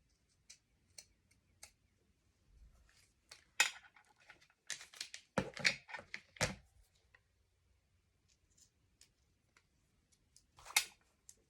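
Scissors snip around the edge of a handmade hair fascinator in sharp, close, scattered clicks, with a quick cluster of cuts in the middle and a few isolated snips before and after, in an otherwise quiet room.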